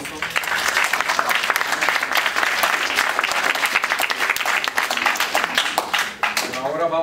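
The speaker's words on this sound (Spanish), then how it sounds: "vamos a darle su aplauso" Audience at a university talk on a governor election claps in sustained, dense applause lasting several seconds, then tapers off with faint voices at the end.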